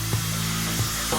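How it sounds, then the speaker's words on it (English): Power saw cutting mahogany to size for bench seats in a workshop, a steady loud whining cut with faint periodic dips. "First, he cuts mahogany to size to make 2 seats."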